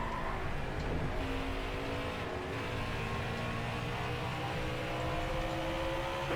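Race cars roaring around Bristol's short oval in NASCAR Heat 5, a dense, continuous engine drone from several cars held at high revs, loud and steady throughout with no talk.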